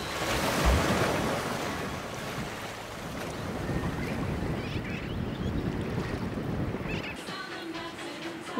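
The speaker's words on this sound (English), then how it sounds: "This is the first time we've had serious wind for what feels like forever." Strong wind and waves at sea aboard a sailboat: rushing surf and a gusty roar buffeting the microphone, loud and continuous, easing slightly near the end.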